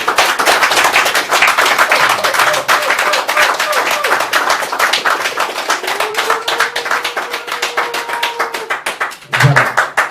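Audience applause in a hall at a Congolese community event in Mulhouse, a steady dense patter of clapping filling the whole stretch with a crowd murmuring underneath and a brief louder burst near the end.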